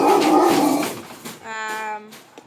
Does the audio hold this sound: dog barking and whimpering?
yes